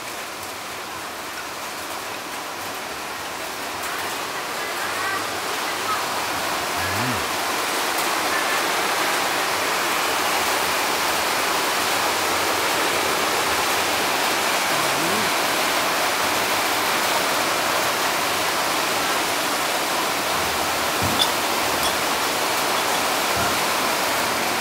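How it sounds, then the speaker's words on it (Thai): Steady rain hisses at a riverside restaurant beside the Tha Chin river, a dense, continuous wash of noise that stays even throughout, with faint background sounds underneath and no talking. "บรรยากาศดีวันนี้มาฝนตกด้วยอากาศเลยเย็น"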